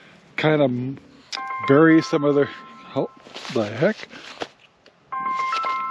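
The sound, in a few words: phone ringing with an incoming call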